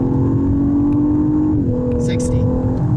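The turbocharged engine of a 2018 Lexus LS 500 sedan pulls hard from inside the cabin, its steady rising drone stepping down at an upshift, with a brief spoken word over it.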